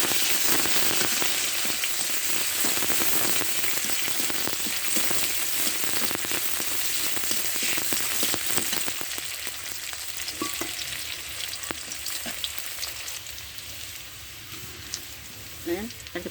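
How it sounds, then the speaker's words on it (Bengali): Chopped onion frying in oil in a wok, a loud dense crackling sizzle that eases off somewhat halfway through, with occasional stirring knocks near the end. "পেঁয়াজ ভাজা হয়ে গেছে।"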